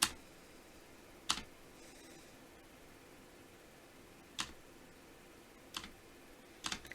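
Keys on a Cooler Master SK630 keyboard are pressed during gaming, with sparse, sharp clicks scattered across a quiet room, a few landing in quick pairs.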